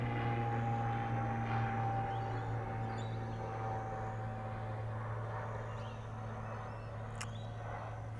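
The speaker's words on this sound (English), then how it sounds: "as the hum of the plane just gently quietens down" Steady low drone of an airplane passing overhead outdoors, a continuous hum holding at moderate level throughout with no speech.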